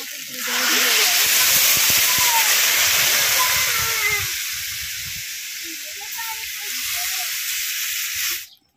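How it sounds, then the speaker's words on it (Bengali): Water poured into a hot pan of fried elephant foot yam, a loud hissing sizzle that bursts up at once and then settles to a softer steady bubbling before cutting off. "ওল ভাজা হয়ে গেছে, এবার জল দিয়ে দেবো।"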